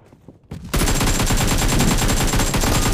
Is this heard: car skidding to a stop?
no